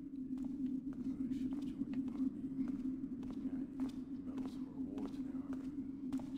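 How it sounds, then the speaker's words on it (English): Footsteps echo through a cave level in a Thief fan mission, a steady series of soft repeated steps over a constant low ambient hum of the game. "Hello, I hear footsteps."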